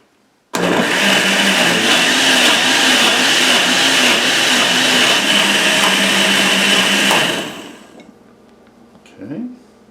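A blender whirs loudly in one sustained burst through butternut squash soup with broth, lid loosely on and covered with a cloth, then spins down and stops, followed by a brief voice.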